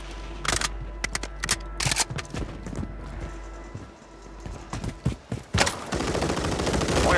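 Gunfire crackles through a Call of Duty: Warzone match: irregular bursts and single cracks from nearby, some sharp and loud, broken by brief lulls before a denser wash of noise builds toward the end.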